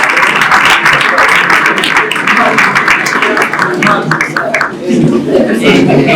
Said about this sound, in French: Alors applaudissons encore une fois pour Shopping.